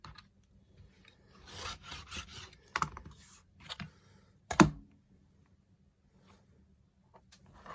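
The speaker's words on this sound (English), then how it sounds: "now I'm going to come down here and I'm going to cut off the selvage" Fabric selvage cut off during a sewing project for an elastic headband, heard as a few close rasping, rubbing cuts with sharp clicks of the blade between quiet pauses.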